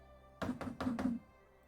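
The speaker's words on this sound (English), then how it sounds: "You knock." Four firm, evenly spaced knocks land on a public outhouse door in the game Lord of the Rings Online, a hollow wooden thud heard close and clear against near silence.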